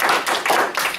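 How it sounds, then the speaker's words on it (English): Dense clapping from a crowd, steady and fairly loud throughout, with no voices over it. "I ask all of you to give yourselves a round of applause for just doing it."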